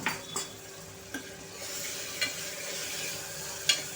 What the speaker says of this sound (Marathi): पेस्ट आपण छानपैकी परतून घ्यायची आहे, आलं आणि लसणाचा कच्चेपणा जाईपर्यंत।